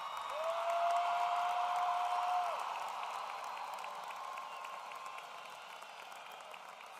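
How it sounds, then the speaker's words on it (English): A large crowd applauds high school graduates at a graduation ceremony, with sustained, fairly distant clapping and cheering and a brief steady whistle-like tone early on, fading slightly toward the end. "How about another round of applause for these graduates?"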